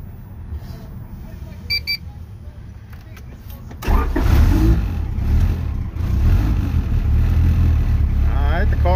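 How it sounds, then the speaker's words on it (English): Honda B20 VTEC turbo engine in an EG hatchback cranks and catches: faint clicks and chimes, then a sudden louder start at about four seconds settling into a rough, steady idle heard from inside the car. "All right, the car is on."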